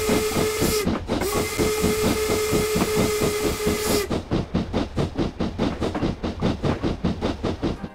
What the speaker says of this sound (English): a drivable Stanier Black 5 steam locomotive